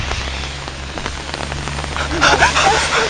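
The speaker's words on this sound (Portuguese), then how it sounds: "Chuva." Steady rain falls on a surface, a dense close hiss of drops that swells a little louder toward the end, with a low hum underneath and no clear voices.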